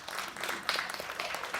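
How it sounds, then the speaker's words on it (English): A small audience claps together at a community theater performance, a brief burst of steady overlapping applause at moderate volume, with no voices on top. "Clap if you remember this show"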